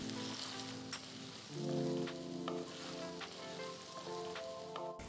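Green chilies, peas and ginger garlic paste sizzle steadily in a hot pan for a korma, with a louder burst of frying near the start and scattered scraping stirs and clinks throughout, no voices.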